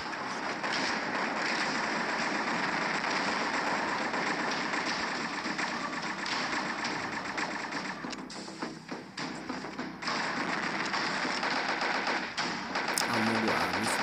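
Dense, continuous gunfire rattles from enemies shooting at a staircase in the online shooter CA, with automatic weapons and the Chaos M36 in a PVE Hell mode, loud and nearly unbroken with brief dips.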